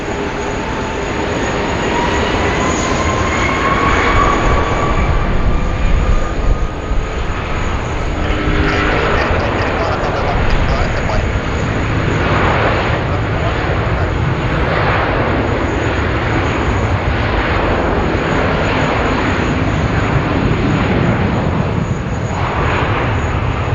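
A jet aircraft passes at Sydney Airport with a loud, steady engine roar that fills the whole stretch, a whining tone sliding downward early on, with no voices.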